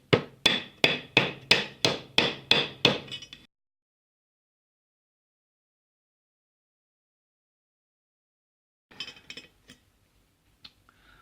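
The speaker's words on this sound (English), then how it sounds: "We're just going to go around and we're going to hammer into that corner, and hopefully that's going to flatten down" A metal speaker bracket for a custom-mounted dash speaker in a Toyota Celica is flattened with a hammer: about ten sharp, evenly spaced ringing strikes, close and loud. Long silence follows, then a few faint clinks and taps.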